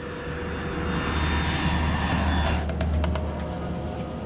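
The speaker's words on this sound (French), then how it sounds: "Le DC-8 amorce son important virage final." A DC-8 jet airliner drones loudly overhead while making its final turn, a steady roaring engine rumble with a thin whine throughout.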